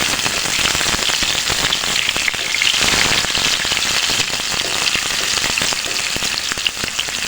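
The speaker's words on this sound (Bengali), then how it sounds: "পেঁয়াজটা একটু হালকা ভেজে নিচ্ছি।" Chopped onions frying lightly in a pan give a steady, dense crackling sizzle that runs evenly and close throughout, with no talking.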